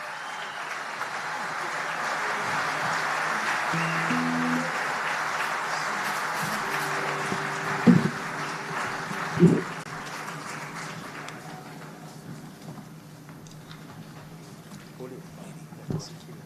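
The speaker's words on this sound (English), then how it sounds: "Round of applause for the big band who'll be joining us." An audience applauds a big band, with broad clapping that swells and then fades over several seconds, mixed with crowd noise and a few sharp knocks toward the end.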